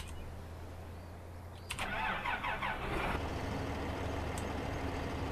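A Massey Ferguson 7626 tractor engine cranks briefly and fires up in the Farming Simulator 15 video game, then settles into a steady low idle, quiet and with no talking.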